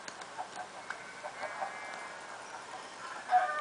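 Minecraft chickens cluck in short, scattered bursts, mixed with light clicking from the game, fairly quiet and with no one talking over them.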